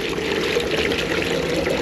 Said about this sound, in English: now that rice, we're gonna put some water, cover that,